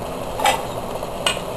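A spoon mashes cooked beans in a pot, giving two distinct scraping knocks against the pot over a soft, steady simmering sizzle.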